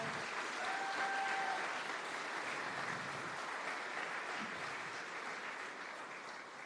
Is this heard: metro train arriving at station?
no